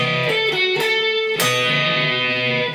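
Distorted rock-style electric guitar plays a Mega Man III intro lick, picking quick notes with a bend before ringing out on a sustained chord, loud and with no talking.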